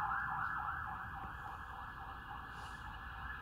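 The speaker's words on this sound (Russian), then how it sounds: "Пожарная поехала." A fire engine siren wails steadily at a distance, faint and continuous, with no talking.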